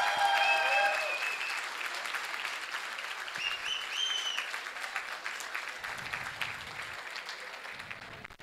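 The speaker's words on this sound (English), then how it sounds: "Please, a huge round of applause for him." A theatre audience applauds warmly for a chief guest at a drama event, steady dense clapping filling the room from start to finish and fading slightly toward the end.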